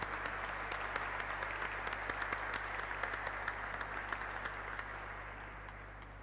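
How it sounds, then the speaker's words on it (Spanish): A church congregation at Mass in the Iglesia de la Encarnación gives sustained applause, steady crowd clapping at moderate distance over a low hum, slowly tapering toward the end. "Un fuerte aplauso."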